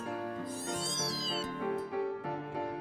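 A fluffy kitten meows close by in a few short, high, tonal cries that run one after another with no other sound around them.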